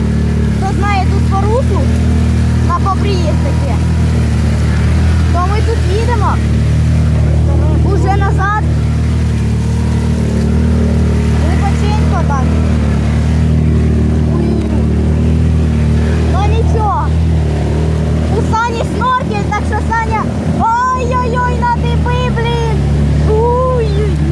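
Quad bikes driving along a riverbed, a steady loud engine drone with shifting revs throughout, under intermittent speech from riders.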